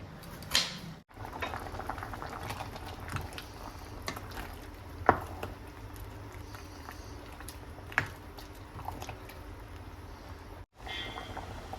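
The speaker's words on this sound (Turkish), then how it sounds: "Bakın güzelce kaynıyor." A pot of tomato preserves bubbling at a low simmer, with soft gurgles and occasional sharp clicks and knocks, steady and close.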